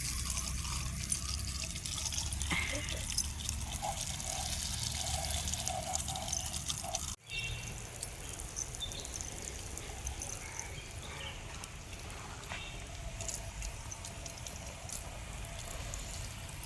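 Water runs from an old, reused bathroom shower head set up on a farm, making a soft, steady spray and trickle throughout with a brief dip midway.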